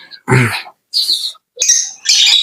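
Two lovebirds kept as a pair give sharp, high chirps in four short bursts with brief silent gaps between them, close and fairly loud and heard alone.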